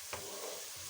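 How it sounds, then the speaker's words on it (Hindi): Onions frying in a pan for veg pulao, a brief soft sizzle with a light stirring scrape, no talk. "प्याज तकरीबन भून चुका है अच्छी तरह।"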